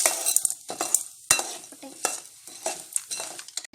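Mustard seeds, urad dal and chana dal sizzle in hot oil for tamarind rice, a close crackle punctuated by sharp, irregular spoon scrapes and clinks against the pan.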